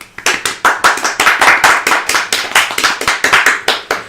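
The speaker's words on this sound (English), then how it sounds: "Give me a round of applause." A small group claps in quick, uneven bursts, with loud sharp hand claps overlapping steadily for about four seconds in a close indoor setting, with no talking over them.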